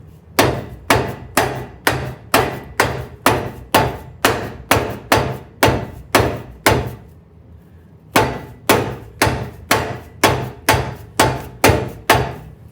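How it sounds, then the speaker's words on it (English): A hammer drives a bearing buddy onto a utility trailer wheel hub with loud, close, evenly spaced metallic blows, about fifteen in a row, then a short pause and another run of strikes. "No damage to the bearing buddy and no damage to our hammer."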